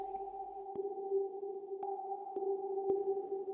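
A sustained synth ghost pad in a beat holds a soft, steady two-tone drone, with a few sharp, brief clicks landing at irregular points over it and no talking.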